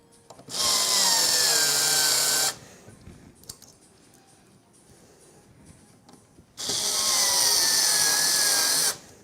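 Two sustained whirring bursts, each about two seconds, come from a powered screwdriver driving screws during a gaming PC build, with a quiet pause between them and no talk.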